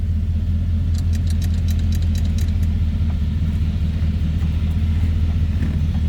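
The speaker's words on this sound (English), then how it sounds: "there's a starter button right in the center, right here. We're going to push that. Fire up that flatty" A 1936 Ford Deluxe Tudor sedan's flathead V8 idles with a steady, low, even rumble close by, while a brief light jingle of keys sounds near the start.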